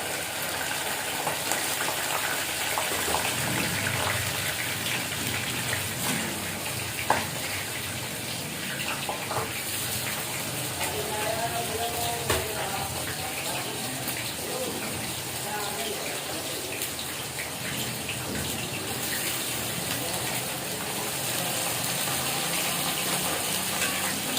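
Boiled mutton frying in a pan for mutton pulao, a steady loud sizzle and hiss that runs continuously for over twenty seconds with faint clatter in between.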